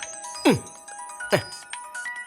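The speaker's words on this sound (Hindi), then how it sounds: "मानिक राज का ही फोन है।" A mobile phone ringtone signals an incoming call in a Hindi comedy film scene, with two bright descending chime bursts about a second apart, loud and close, with no talk over it.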